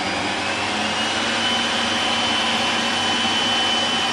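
An electric mixer blends Easter chocolate cake batter with unsweetened dark cocoa, giving a steady, even whir close by with no pauses.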